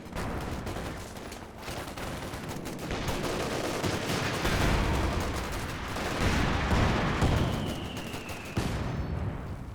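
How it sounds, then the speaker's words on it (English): Mortar fire and explosions in the strategy game Company of Heroes 2, a dense stretch of rumbling booms and crackling gunfire layered together, loud and continuous without speech. "Mortar gets the kill."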